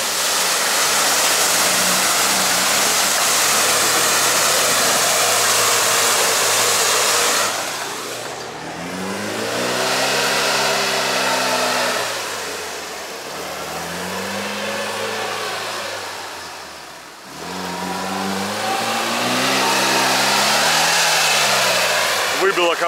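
Nissan Patrol driving along a seaside route, engine revving up and down in repeated swells beneath a constant rushing wind-like roar, close and loud.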